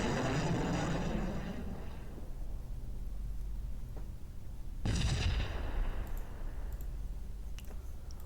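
Heavy weapons fire in the Sunrider: Mask of Arcadius space battle game: a loud rumbling barrage fading over a couple of seconds, then a second booming blast midway, with faint clicks between.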